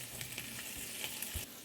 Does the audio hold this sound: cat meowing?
no